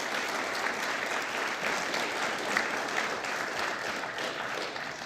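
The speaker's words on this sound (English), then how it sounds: "let's conclude the session by giving a big round of applause to Dr. Joe Wu." A round of audience applause closes a session at a cardiovascular medicine symposium, with dense, even clapping held at moderate level from start to finish.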